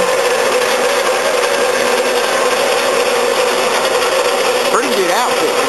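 Harbor Freight band saw cutting through stock, a steady close buzzing whine of blade and motor running continuously.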